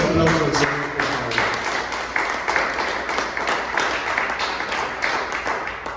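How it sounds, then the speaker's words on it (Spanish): A church congregation applauds during a Spanish-language sermon, with dense, steady clapping sustained for several seconds. Low voices and a faint tonal sound at the start sit beneath the clapping. "Denle ese aplauso al Señor,"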